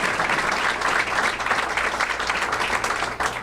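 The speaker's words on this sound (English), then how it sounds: "This is where the applause happens." Audience applause at a news conference, a dense, sustained burst of many hands clapping in a room, steady and fairly loud throughout.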